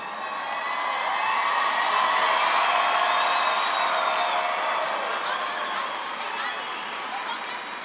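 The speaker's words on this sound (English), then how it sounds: "Let's give them a big round of applause." Graduation ceremony crowd at a high school gives sustained applause for the students, a dense wash of clapping with scattered cheers and whoops that swells, holds for several seconds and slowly fades.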